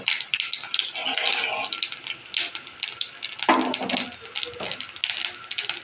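Cumin seeds dropped into hot oil as a tempering for Bengali dim kosha crackle and pop in quick irregular snaps over a bright, hissing sizzle, close and moderately loud.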